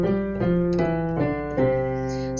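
The C five-finger scale is played one note at a time. Five clear, sustained tones follow each other at an even pace, ringing out cleanly with no talking.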